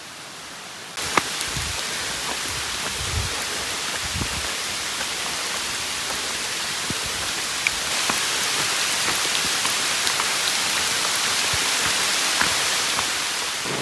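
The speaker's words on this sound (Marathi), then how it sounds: "आता जोरदार पाऊस सुरू झालेला आहे." Heavy rain pours steadily in a jungle near Mahabaleshwar, a dense, loud, unbroken hiss of falling water with scattered drop impacts close by.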